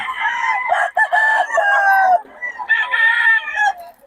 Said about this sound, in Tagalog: Yan, mga manok niyan.